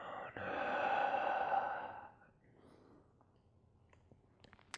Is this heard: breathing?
yes